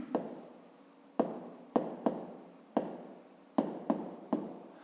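A pen writing by hand on paper, scratching in short strokes that each begin with a sharp tap and fade, about eight strokes in an uneven rhythm, close and clear with no talking.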